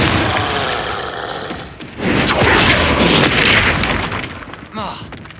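A Confringo blasting spell erupts in Hogwarts Legacy, a loud booming explosion with a crackling blast tail, amid shouted spell incantations and other combat noise.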